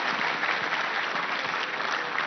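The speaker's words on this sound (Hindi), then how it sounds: "एक बार ताली बजाओ जोर से सभी इनके लिए" Steady, dense clapping from an audience at a public discussion with religious storyteller Devkinandan Thakur on religion and politics during the 2023 Chhattisgarh elections, continuous and loud throughout.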